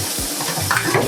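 Pieces of mutton browning in a pan for curried mutton, a short stretch of steady frying noise with a couple of brief scrapes or tong movements, fairly close.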